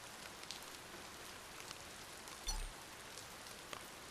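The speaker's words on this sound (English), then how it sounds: "It's got the good sound of rain, and I like the sound of rain." Steady rain patters on a surface as an even, soft wash of noise, with one brief low bump partway through.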